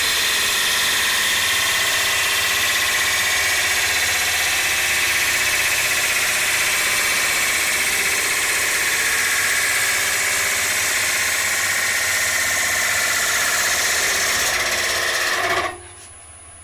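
A wood lathe spins steadily while a tool turns an ogee bowl, a continuous loud motor hum with a high whine that runs unbroken before dropping off sharply near the end.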